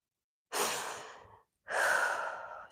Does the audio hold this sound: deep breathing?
yes